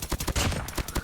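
An M1 Garand rifle fires in COD Mobile in quick succession, a string of about seven close, punchy shots packed into one second with no talking.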